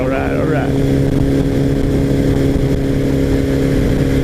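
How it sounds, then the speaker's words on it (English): A GS850 motorcycle engine hums in a steady, loud drone with wind rush on an autumn ride, holding an even pitch throughout with no pauses. "you are enjoying this nice fall ride on board the GS850"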